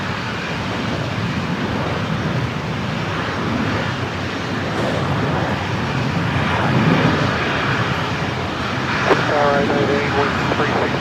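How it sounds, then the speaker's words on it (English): A Qantas airliner on the runway at Brisbane Airport makes a broad, steady engine roar that swells slightly, heard at a distance under wind and radio-style voices. "We do have Qantas 629 now rolling the service to Melbourne"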